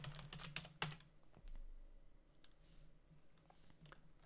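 Someone types on a computer keyboard in quick, uneven bursts of clicks, louder at first and then sparser and fainter, with no talking.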